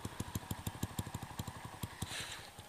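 Honda Astrea motorcycle engine fitted with a bored-out Supra FI exhaust, its catalytic converter apparently removed, idling with a quick, even, close putt-putt pulse, then a brief throttle blip near the end.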